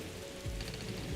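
Steady rain falls in the video game Morrowind, a constant even hiss of drops with no voices.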